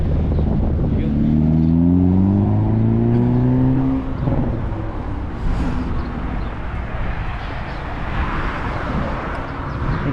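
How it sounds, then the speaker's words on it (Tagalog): A car approaches on a New Zealand road with a loud engine hum that climbs in pitch, then gives way to a broad rush of road noise as it draws near and goes past. "tawid tawid may parating na sasakyan"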